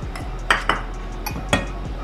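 A nonstick tawa is handled on a stove while it warms, producing a few light metallic clinks and taps at irregular moments over a faint steady hum.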